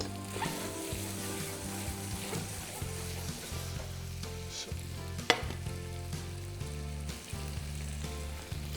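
Sliced garlic sizzles and fries steadily in a pan, a continuous close crackle with a few faint clinks of utensils and no talking.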